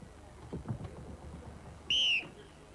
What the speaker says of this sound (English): On the whistle start.